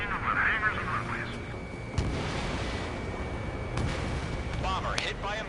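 Bombs from an Ace Combat 7 aircraft blast hangars and runways, a sharp boom near the two-second mark followed by steady rumbling explosions and gunfire-like bursts under a continuous engine roar, with a voice talking in the background.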